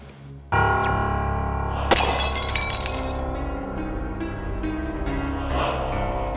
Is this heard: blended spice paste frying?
no